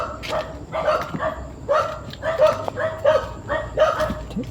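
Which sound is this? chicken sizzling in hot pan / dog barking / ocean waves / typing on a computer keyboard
dog barking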